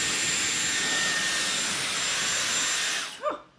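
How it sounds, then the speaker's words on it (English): A Dyson Airwrap hair dryer, travel-size styler, blows a loud, steady broadband whoosh of air for about three seconds, then cuts off abruptly, followed by a short voiced exclamation. "not bad for like a travel size sort of air dryer"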